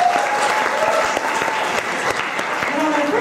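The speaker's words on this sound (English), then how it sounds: "Let's give them a round of applause real quick." A crowd applauding a jazz band, steady clapping from many hands with a faint voice and some tonal sound briefly audible beneath.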